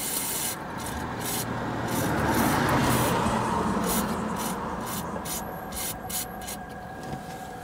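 Brake cleaner hissing in a steady spray over the brake fluid on the bleeder bolts of a 2011-2016 Scion tC, a broad continuous rush lasting several seconds with faint tapping and no talking.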